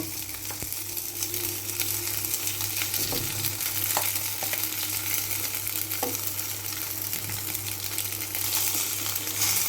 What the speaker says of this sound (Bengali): তেল গরম হয়ে গেছে, এর মধ্যে আমি একটা অর্ধেক ম্যাগিটা দিয়ে দেব